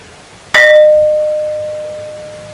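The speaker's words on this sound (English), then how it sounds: "You realize that this thing really rings like a bell, and it reverberates for quite a long time." An ancient stone object struck once, giving a sharp bright strike that rings on as a clear bell-like tone, fading slowly over about two seconds, close and alone.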